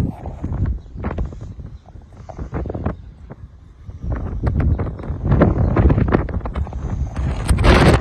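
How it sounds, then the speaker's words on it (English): Strong wind in Jaywick buffets the microphone in loud, rumbling gusts that swell and fade, with a harsh roar building toward the end. "It shows them how windy it is here in Jaywick."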